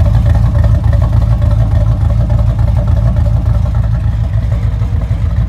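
A supercharged 2008 Ford Mustang GT with a 4.6 V8, mild cam, BBK long-tube headers, 2.5-inch exhaust and dual-chamber Flowmaster mufflers rumbles steadily at close range, a loud, continuous, low throaty idle with no talking.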